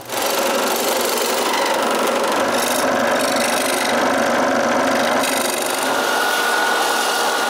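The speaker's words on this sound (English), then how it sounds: "I finished the job with the scroll saw." Scroll saw cutting through a masonite pattern piece in a woodworking shop, a continuous buzzing, rasping blade sound that runs steadily close by with no talk.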